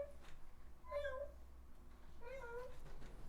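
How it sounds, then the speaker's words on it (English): Two soft, drawn-out meows from a cat, faint and close together, over a low background hum. "all of a sudden, you just start hearing meow"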